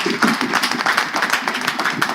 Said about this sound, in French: On va encourager Gloria en applaudissant pour Lionel.